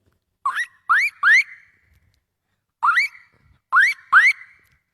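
A voice mimics a car lock chirp in two groups of three rising whistle-like tones separated by a pause. The tones are sharp and close, with no other sound between them.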